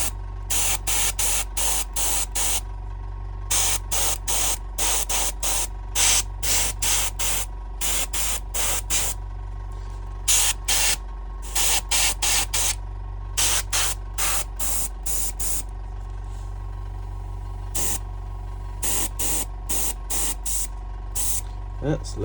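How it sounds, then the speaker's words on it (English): Paint sprays from an airbrush held close to miniature models, heard as a loud steady hiss that cuts in and out in repeated short bursts over a constant low compressor hum. "You can probably hear I'm a bit close with the brush, with the airbrush, because I'm trying to get it into those gaps"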